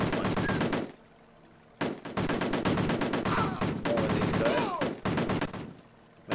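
Rapid bursts of gunfire in the Amiga game Cannon Fodder, dense rattling volleys broken by two brief silences, with small explosive pops scattered through.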